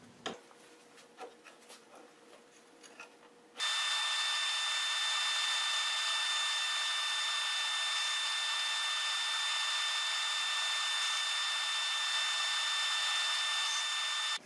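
A band saw cuts facets into a wood block, the steady loud whine of the blade under load beginning after a few seconds of quiet clicks and shuffling and holding unbroken to the end.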